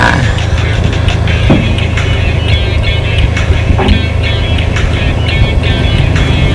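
Toyota Vios 1.6 automatic, a used car, revved hard from inside the cabin, a loud, steady engine roar that holds for several seconds with road rumble beneath it.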